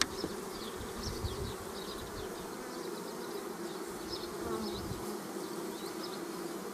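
A swarm of honeybees hums continuously near an apiary, a dense steady buzz with individual bees droning past close by, no voices.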